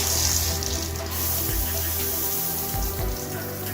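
Hotel shower water runs steadily from a showerhead with decent pressure, a continuous close hiss and splash with faint low thumps underneath.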